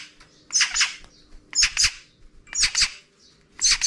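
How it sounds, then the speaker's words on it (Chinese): A pet magpie squawks in harsh, raspy bursts close by, four separate calls spaced about a second apart with quiet gaps between, over faint background noise. "养了一只喜鹊"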